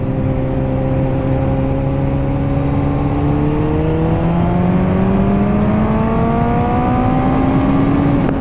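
A 2008 Kawasaki ZX14 motorcycle engine pulls hard under acceleration while riding, a loud steady roar with pitch climbing smoothly through the rev range, close and continuous with wind noise.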